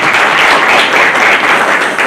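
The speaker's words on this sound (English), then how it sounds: "Let's clap for him." Loud, dense applause fills a summit hall for a faculty dean, many hands clapping together in a continuous roar.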